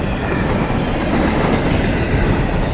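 Long train rolling past on rails, a loud, continuous, close rumble with rattling wheel noise and a dense, steady roar throughout, with no voices.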